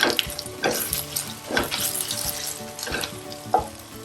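Asafoetida dropped into hot oil for tempering, along with ginger, for a masala dosa filling, sizzling steadily close by under clinks and scrapes of utensils against the pan.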